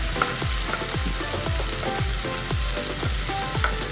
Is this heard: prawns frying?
yes